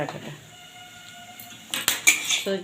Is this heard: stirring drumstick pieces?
yes